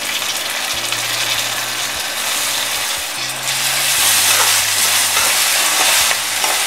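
Tomatoes frying and stirred in a pan for prawn gravy, a steady broadband sizzle with scraping stirs throughout, loud and close, with a low steady hum underneath.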